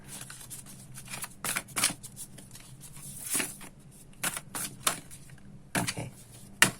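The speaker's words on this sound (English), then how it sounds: "I don't think I've ever shuffled this deck for so long to get an answer." A deck of tarot cards being shuffled at close range, with irregular papery riffles and snaps in uneven bursts, some louder than others, and no talk.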